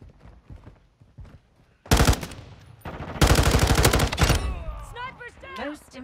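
Loud bursts of automatic gunfire in Call of Duty: Modern Warfare II, two long rapid volleys close up, separated by a short gap, with quieter game sounds and bits of talk around them.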